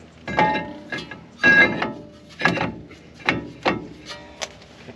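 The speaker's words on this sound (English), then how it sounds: "Put our rotor on." Brake rotor being fitted onto the front hub of a 2016 Ford F150, with a run of sharp metallic clanks and knocks in uneven bursts, close and fairly loud, no talking.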